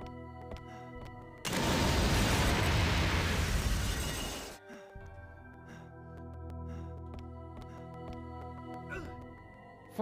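Bomb explosion in the game Carrier, a loud sudden blast that holds as a dense roaring burst for about three seconds before cutting off, with quiet tonal game music before and after.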